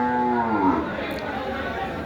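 A buffalo at a busy livestock market lets out a long, loud low moo over steady crowd murmur.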